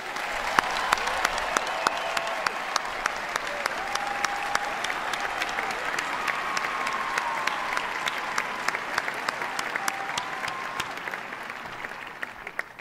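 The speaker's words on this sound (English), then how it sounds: "giving our musicians a well-deserved round of applause?" A large crowd at a university commencement ceremony gives musicians sustained applause, dense and steady throughout, with many individual claps standing out sharply amid the broad wash of clapping.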